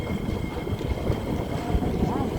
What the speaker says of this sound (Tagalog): alis na isang MRT